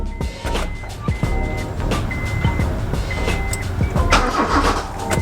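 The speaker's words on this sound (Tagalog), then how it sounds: "Sige, ignition, start." Engine of a Mazda 323 Familia with a fuel pump problem and hard starting is cranked and catches, a loud close rumble with whirring and a few clicks, and it runs on steadily without talk.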